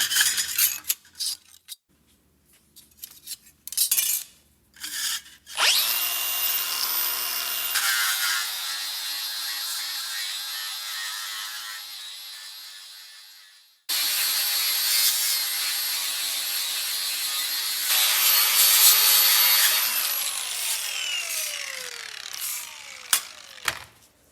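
Protective coating is scraped and ground off the back of a metal repair panel for a 1965 VW Beetle B-pillar, heard as several long, loud, harsh abrasive passes with short pauses and no talking.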